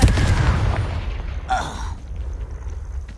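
A Confringo blast spell cast in Hogwarts Legacy goes off with a loud low boom at the start, and a brief crackling burst follows about a second and a half later before the rumble fades.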